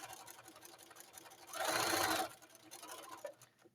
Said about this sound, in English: Sew forward, and I'm going to sew all the way down, keeping it at the 5/8 seam allowance.